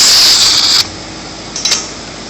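A V10 stud gun fires to weld a stud, a loud bright hiss-like burst lasting nearly a second, then a brief quieter crackle follows; no talk.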